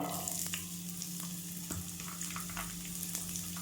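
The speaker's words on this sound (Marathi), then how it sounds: "छान आपलं तेल गरम झालेलं आहे कांदा घालून घेते" Chopped onion frying in hot oil in a pan for a homemade green chili chutney, a steady close sizzle with occasional stirring scrapes and no talking.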